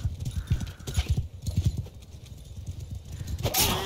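Horse hooves pound in a quick, uneven galloping rhythm in the Mount and Blade 2 Bannerlord video game, loud and close, with a whinny and other battle noise mixed in.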